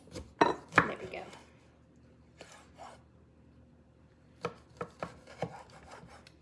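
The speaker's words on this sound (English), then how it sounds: "all I did is I cut it in half, and then I'm gonna cut it in half again" A knife slices a lime in half on a cutting board for garnish, giving a couple of sharp chops followed later by a run of quick, lighter taps, with faint kitchen sounds in between.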